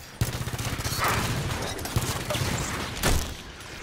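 A SAW machine gun fires in Halo 5 with a fast, steady rattle of shots, joined by booming blasts from the game's combat, while a player talks over the action.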